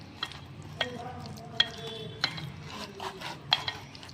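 A spiced mixture with chili powder is mixed by hand in a bowl for a tel pota recipe. Soft, steady mushing and scraping is punctuated by a few sharp clinks spread across the clip, quiet and close, with no talking.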